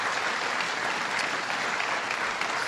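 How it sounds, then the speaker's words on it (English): Audience at a regional sustainability conference clapping together, a dense, even burst of applause from a crowd filling the room, steady throughout with no voices over it. "give yourselves a round of applause for the work that y'all do every single day"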